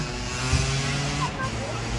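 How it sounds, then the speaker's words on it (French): A small moped engine buzzes close by with a steady drone, while a voice briefly sounds over it. "Ouais, ça c'est une petite mobilette."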